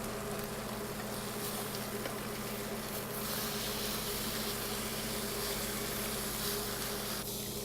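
A steak sears in a Berndes non-stick pan, giving off a continuous dense sizzle with a steady low hum beneath it, close and even throughout, the hiss brightening slightly toward the end.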